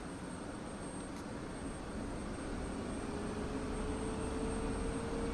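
An F-16C jet engine in the DCS flight sim spools up as the throttle advances, a steady broadband roar with a faint whine slowly climbing in pitch underneath.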